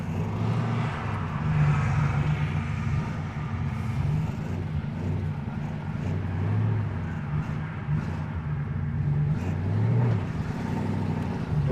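A 1972 Mercury Comet GT drives on after a gear shift, its engine a steady, low, rumbling drone heard from inside the car that rises and eases gently, with no voices.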